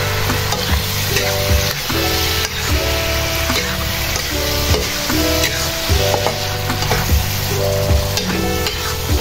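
Spicy scrambled eggs with basil frying loudly in a pan, a steady close sizzle broken by repeated scraping stirs, with a layer of background music throughout.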